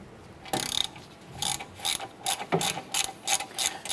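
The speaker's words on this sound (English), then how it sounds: "We're gonna remove these two 10mm bolts." A ratchet wrench loosening 10mm bolts on a 2008-2012 Honda Accord wheel hub, giving short bursts of rapid clicking in an uneven rhythm, close and clear with no talk.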